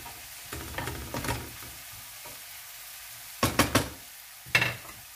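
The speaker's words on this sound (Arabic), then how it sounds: "صافي غادي نحرك كلشي" Potatoes and carrots fry in a pan with red and green peppers, a low sizzle under a few stirring scrapes, then a cluster of sharp knocks and clatters from the spoon against the pan near the end.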